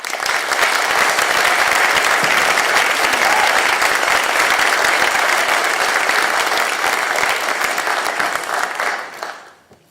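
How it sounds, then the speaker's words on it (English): Strong audience applause during a county government address in St. Louis, steady dense clapping held for several seconds and then tapering off near the end. "And that deserves a round of applause."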